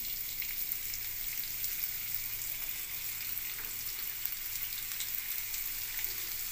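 Chopped onion and red chilies frying in hot oil, a steady close sizzle and crackle that holds evenly throughout without pause and without any voices.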